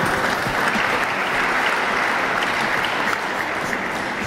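Steady, dense applause from an audience fills the hall at an Italian FIPSAS award ceremony for medal-winning fin swimmers, loud and unbroken throughout.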